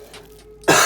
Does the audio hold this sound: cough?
yes